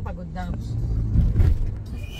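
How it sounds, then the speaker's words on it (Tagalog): A jeepney rumbles past on a busy street in Divisoria, Manila, a low engine drone that swells and peaks midway before easing off, with people talking nearby over the traffic. "May jeep dyan."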